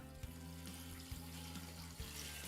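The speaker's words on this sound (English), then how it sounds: "Let's pour the water." Water streams steadily into a pot holding chicken wings with a soft, continuous splashing rush, faint and nearby.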